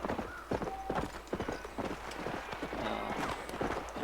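Horse hooves in Red Dead Redemption clip-clop in a steady walking rhythm, close and clear, with faint game ambience around them.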